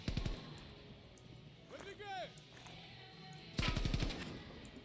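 Call of Duty: Cold War gunfire arrives in two short bursts of rapid shots, one at the start and one near the end, with a quieter stretch between them that holds a whistling sound effect.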